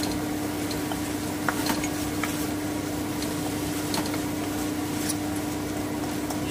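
Bitter gourd and potato with turmeric and salt being stirred in a pan: soft, steady scraping and faint sizzling with a few light clicks of the utensil against the pan, under a constant low hum.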